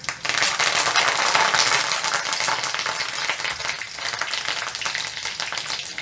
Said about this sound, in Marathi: आता त्यात मी 1 कढीपत्त्याची अख्खी काडी टाकते.